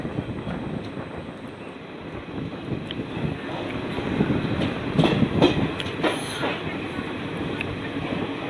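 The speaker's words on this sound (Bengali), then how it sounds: "বর্ধমান ঢুকছে এখন ট্রেন" A passenger train slows into Bardhaman station in West Bengal, running about an hour late, with a steady rumble of wheels and carriage noise, faint wind buffeting and a few louder clanks near the end.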